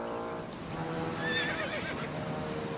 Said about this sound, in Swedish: Är det inte din häst som går där nere?